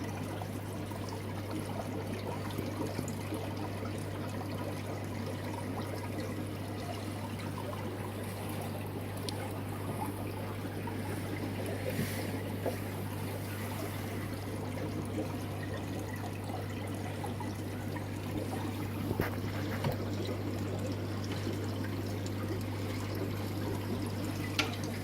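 Water trickling steadily in a 6-foot, 540-litre aquarium tank, a soft continuous splash and gurgle over a constant low pump hum, with no talking.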